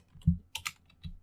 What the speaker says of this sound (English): So we will just type it right here.